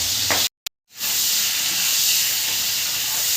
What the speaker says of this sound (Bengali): চিংড়ি মাছ ধুয়ে মেশে নিয়েছি, নুন হলুদ মাখিয়ে রেখেছি। এইগুলো আমি ভাজা করে নেব।